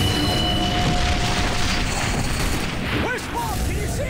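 Grenade and artillery blasts boom through a firefight in The Bureau: XCOM Declassified, dense rumbling explosions mixed with gunfire across the whole stretch as soldiers shout over the battle.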